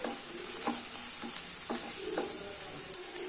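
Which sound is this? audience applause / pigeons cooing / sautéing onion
sautéing onion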